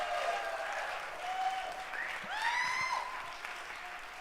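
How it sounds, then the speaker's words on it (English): A crowd at a Snow College convocation applauds Professor Phil Keene with steady, moderately loud clapping lasting several seconds, joined by a few high whistle-like tones partway through. "Can we get a round of applause for Keene?"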